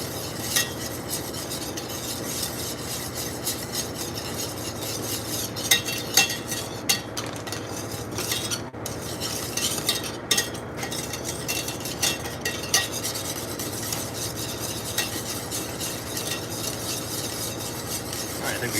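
A roux for truffle mushroom mac and cheese is stirred in a pan, with a steady soft scraping and swishing plus occasional light utensil clinks, fairly quiet and with no talk.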